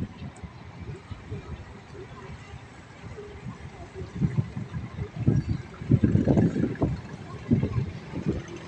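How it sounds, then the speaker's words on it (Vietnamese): A low, steady rumble of an iron boat on the river at Chợ Gạo, Vietnam, with wind buffeting the microphone, growing louder and choppier toward the end. "Ở đây có một chiếc ghe sắt."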